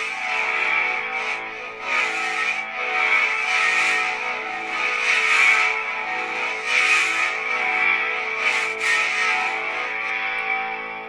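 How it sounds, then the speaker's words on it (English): An electronic lightsaber hum from the Maverick Hunter X sound font swells and dips in a series of smooth, whooshing swings, loud and continuous with a buzzy, laser-like tone. "Very laser sounding smooth swings."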